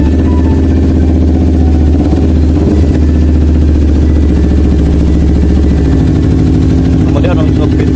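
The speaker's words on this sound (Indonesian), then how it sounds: "Motor bisa dihidupkan normal seperti biasa ya." A Kawasaki Ninja 250 motorcycle engine idles with a loud, close, steady low rumble that holds even throughout.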